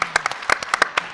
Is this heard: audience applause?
yes